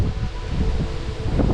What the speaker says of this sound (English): Really windy out today, guys.